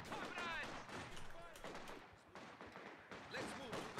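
Machine gun fire in the Company of Heroes 2 strategy game, rapid bursts of shots mixed with other battle noise and effects, fairly loud and continuous throughout.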